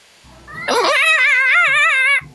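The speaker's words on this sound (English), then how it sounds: "Oh, what's your name, cat?" A cat lets out one long, loud, wavering meow, close and clear, rising in after a softer lead-in and holding for over a second before stopping abruptly.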